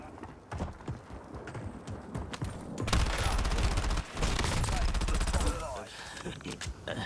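Rapid bursts of gunfire in the Warzone battle royale video game, dense and loud in the middle of the clip, with a player talking over the game audio.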